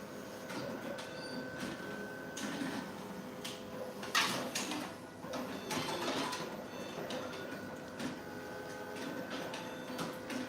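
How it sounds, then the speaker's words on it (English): An ID card printer is opened, producing a run of plastic clicks, a sliding clunk and small mechanical rattles, close and moderately loud. "So at first, let's open the machine."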